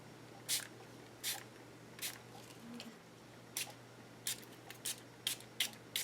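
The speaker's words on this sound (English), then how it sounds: "Bringing in the spray acrylic by Marabou Cocoa." Short hissing bursts of Marabu spray acrylic paint in cocoa shade from an aerosol can, about nine quick sprays in uneven groups, close and moderately loud over a quiet room background.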